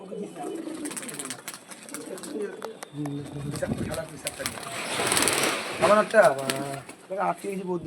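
Golden pigeons coo softly in the background while people talk over them, their voices mostly covering the low, throaty calls.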